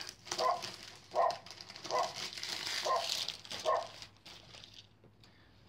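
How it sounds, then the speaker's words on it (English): A dog barks about five times at an even pace, somewhat distant and muffled, over a faint background hum. "That dog never stops barking."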